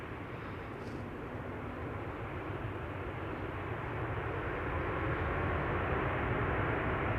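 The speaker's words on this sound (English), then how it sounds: "Nice use of the reversers." A landing airliner at Amsterdam Schiphol applies thrust reversers, a broad steady roar that builds slightly louder toward the end, heard from a distance with no voices.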